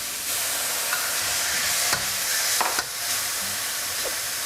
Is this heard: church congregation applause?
no